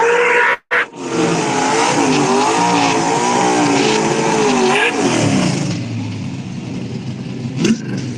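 A race car roars as it accelerates down a no prep drag racing track, loud and close, its engine note climbing through gears with tire squeal before fading off.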